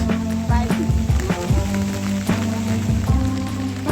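Steady rain pattering down on a surface at the Gandharpale Buddhist caves in Mahad, with scattered heavier drips and a low tonal hum running underneath.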